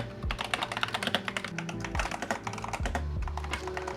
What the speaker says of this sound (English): I'm gonna let you listen to the ASMR of these switches.